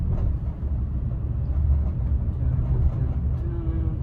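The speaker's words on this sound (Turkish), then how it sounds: "Arkadaş çok ses yapıyor bu arabanın arkadaşlar." A 2022 VW Transporter van cruises on a highway with a deep, constant rumble of road and engine noise inside the cabin. The drone stays low and steady, with a faint tone near the end.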